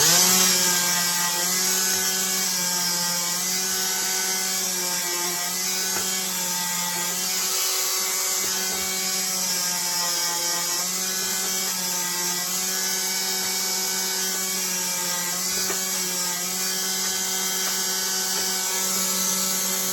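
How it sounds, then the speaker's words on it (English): A power sander runs steadily over clamped wooden decking boards on a model railway build, giving a continuous close whine with layered harmonics and no breaks for the full length. "Just going to quickly run a sander over that."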